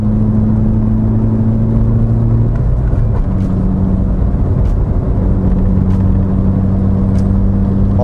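Engine of a Proton Satria Neo accelerating on an open road, a steady droning rumble with a shifting hum as revs change, heard close from inside the car without talk.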